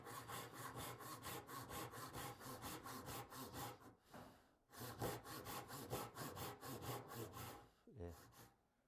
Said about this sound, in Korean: 이 톱의 왼쪽 부분이 선을 스치게 하는데 요거는 조금 남겨서 톱질을 해보겠습니다.